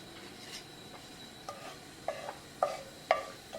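Cumin seeds hit hot olive oil in a fry pan on a stove burner, giving a few short sizzling bursts that repeat and build over a quiet, faint background.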